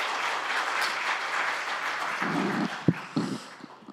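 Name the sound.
audience applause welcoming the minister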